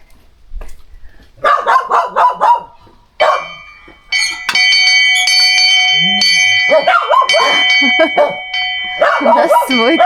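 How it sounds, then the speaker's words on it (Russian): A hand-rung bell pulled by a rope clangs repeatedly with long ringing overtones on a mountain road, mixed with dogs barking and people talking. "У нас свой колокол."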